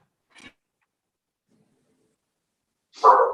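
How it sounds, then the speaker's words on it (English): A dog gives a short yip, then after a long silence lets out one louder bark, heard nearby in a quiet room during a remote public hearing. "Sorry, my dog is having a moment."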